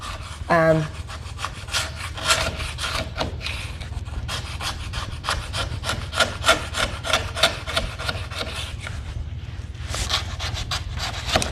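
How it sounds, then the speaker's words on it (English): Old finish scraped by hand off a wooden staircase along the grain, repeated rhythmic rasping strokes close by, steady back-and-forth scrapes with short pauses and brief breathing sounds. "sometimes I'll have to scrape down on certain areas"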